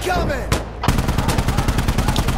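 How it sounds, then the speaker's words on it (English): Rapid machine gun suppressive fire in a military video game, a loud close stream of evenly spaced shots after a brief burst and pause, with faint voice chat underneath. "There is a machine gun, like, suppressive fire on me right now."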